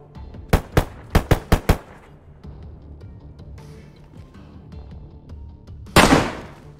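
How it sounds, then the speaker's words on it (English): Gunshots in the video game DayZ: a rapid close series of six loud, sharp shots, a quiet pause, then one more heavy blast with a trailing echo. "Maybe I can just headshot him, even though I won't get the gear"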